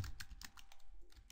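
Short run of quick, quiet key taps on a computer keyboard while typing a property name, close and alone.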